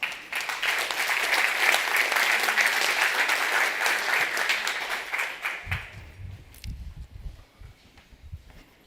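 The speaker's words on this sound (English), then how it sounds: "Please give a warm round of applause for Pierre-Marie Aubert." Audience applause for a speaker at a food sovereignty conference in Rotterdam, a dense, steady clapping that fills the room for about five seconds before thinning out, with a few low thumps and shuffling sounds as it fades.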